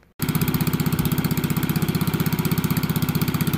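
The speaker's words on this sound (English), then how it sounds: "I've got it fired up running, just kind of as a test, see if it's gonna work." A homemade inverter generator's small engine starts and settles into a steady, rapid, rhythmic chugging, running loud and close without letting up.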